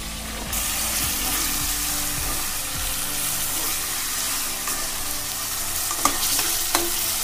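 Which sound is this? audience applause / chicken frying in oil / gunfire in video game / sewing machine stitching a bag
chicken frying in oil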